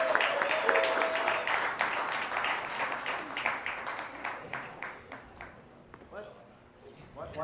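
Audience at a standup comedy show at the Milk Parlor claps and applauds in a steady, dense wash of handclaps that gradually thins out toward the end, with a few voices mixed in.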